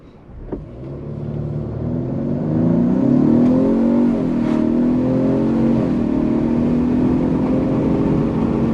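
2022 Ford Explorer 2.3 EcoBoost with a Whipple supercharger running on 93 pump gas at wide open throttle, a loud steady engine roar building from a brief start and holding as the vehicle accelerates, heard close without talk.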